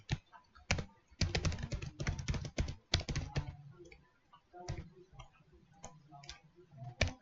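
Computer keyboard keys click in quick irregular bursts while a login captcha is typed, close and fairly quiet, with short pauses between clusters of keystrokes.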